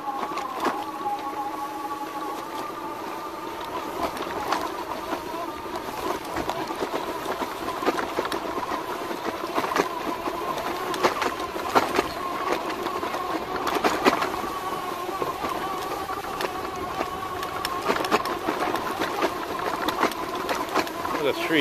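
The electric hub motor of a 2018 Rad Power RadMini fat-tire folding bike whines steadily under throttle on an off-road ride, a constant tonal buzz with wind rumble and occasional voice.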